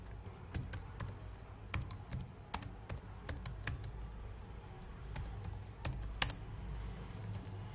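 Someone types on a computer keyboard, with irregular clicking keystrokes in short bursts and pauses, close and moderately quiet, no talk.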